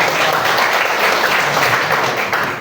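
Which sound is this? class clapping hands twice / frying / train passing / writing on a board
class clapping hands twice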